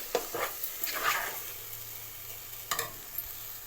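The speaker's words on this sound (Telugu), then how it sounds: "ఆయిల్ పైకి తేలే వరకు ఫ్రై చేసుకోవాలి." Oil sizzling in a pan while an egg pulusu masala is fried until the oil rises to the top, a steady low crackle with a few sharper scraping stirs, close and alone without talk.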